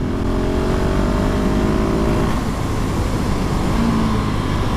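A KTM 690 SMCR supermoto with Power Parts fitted revs hard and pulls up into a wheelie, its single-cylinder engine climbing in pitch then dropping back, loud and close over heavy wind roar.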